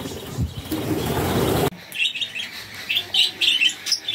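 Birds caught from a colony in a cage: a loud burst of wing flapping and fluttering, followed by a series of sharp, close chirps and tweets, with no speech.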